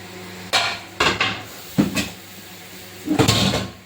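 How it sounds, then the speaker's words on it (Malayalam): Food being mixed inside a pressure cooker with the stove off, giving several separate clanks and scrapes of a utensil against the metal pot, close and sharp, with quiet gaps between them. "ഇനി നമ്മൾ കുക്കറിൻ്റെ അകത്ത് വെച്ചിട്ടാണ് മിക്സ് ചെയ്യുന്നത്."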